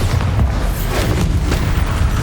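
A Bombarda spell explosion from Hogwarts Legacy, a loud, close, booming blast with crackling, rumbling debris lingering throughout.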